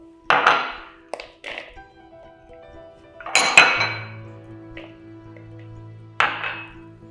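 Vinegar, cayenne pepper and mayonnaise go into a single bowl, with crisp clinks and knocks of dishes and utensils scattered across several seconds, close and clear, and no talking.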